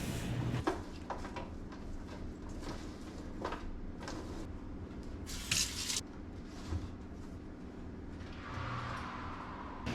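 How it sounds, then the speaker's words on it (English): Broccoli is rinsed under a running kitchen tap in a sink, with a steady faint water wash, scattered clatter and knocks, and a brief louder spray burst partway through. "I agitated the broccoli and rinsed it one more time before straining it"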